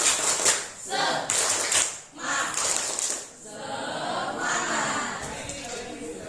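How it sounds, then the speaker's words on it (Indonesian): A classroom of students joins in a rhythmic group clap, a teacher's cheer, with several bursts of clapping separated by short pauses, mixed with voices and chatter in the room. "Tepuk semangat."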